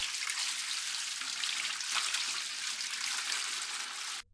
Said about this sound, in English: Drain and clean the recovery tank.